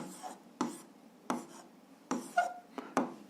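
Pen strokes on paper while working an algebra exercise, a few short scratchy bursts of writing separated by brief pauses, close and fairly quiet.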